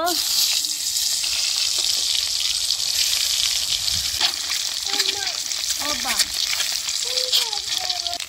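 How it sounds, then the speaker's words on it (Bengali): Eggs fry in hot mustard oil seasoned with turmeric, a dense continuous sizzle and crackle close by, with a voice talking over the frying throughout. "এখন আমি ডিম একটা একটা করে দিয়ে দিব।"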